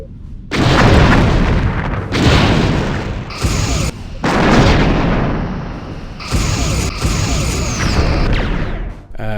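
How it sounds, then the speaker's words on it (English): Disruptor weapon fire from starships in Star Trek: Bridge Commander, a run of loud, dense booming blasts in several long bursts with brief gaps, close and filling the space, with no talk over them. "We can avoid disruptor shots fairly easily at this range."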